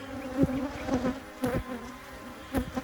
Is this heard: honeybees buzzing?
yes